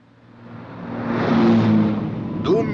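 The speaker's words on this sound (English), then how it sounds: "can I hear that dreaded sound of Supercar?" Supercar, the fictional vehicle from the Supercar TV series, approaching with a whooshing engine roar that builds to a peak and then eases slightly, followed by a brief whistling sweep at the end.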